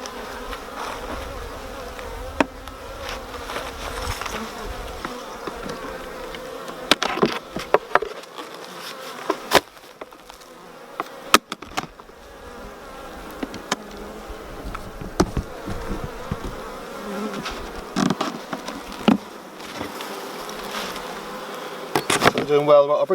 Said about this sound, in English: A couple of bees still up in the feeder.